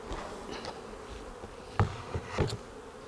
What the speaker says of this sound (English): rest of the bees can go back.